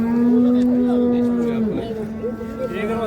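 At a livestock market, a cow gives a long, loud moo close by, followed by lower rumbling lows under busy market chatter.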